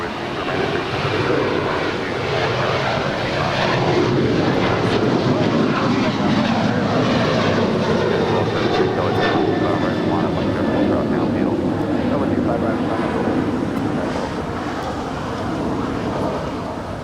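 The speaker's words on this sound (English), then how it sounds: "we've got the Qantas A380 now on the downwind" A Qantas Airbus A380 flying on downwind approach near Los Angeles airport, a steady distant jet engine rumble sustained throughout, with voices talking over it.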